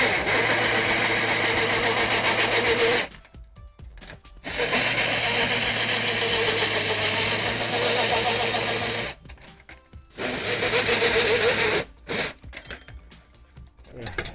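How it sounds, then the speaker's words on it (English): A power drill with a 4-inch hole saw runs in reverse, cutting in three long, loud bursts of whirring with short pauses between them, plus a brief final burst. "I'm going reverse to cut it backwards so it doesn't catch."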